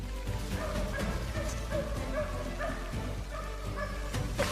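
Hunting dogs bark and yip in pursuit during a daytime hog hunt in a Texas forest, a busy, continuous chorus of overlapping yelps and barks at moderate distance over steady background noise.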